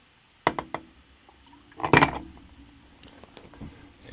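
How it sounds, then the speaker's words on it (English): A bourbon smash cocktail is poured into a glass: a few sharp clinks, then a loud splashing pour that trails off into softer dribbles and small knocks. "Just pour it straight into the glass."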